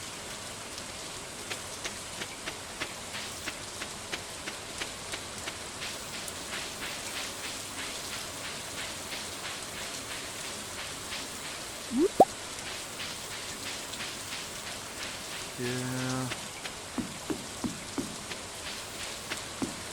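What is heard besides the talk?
rain in Stardew Valley video game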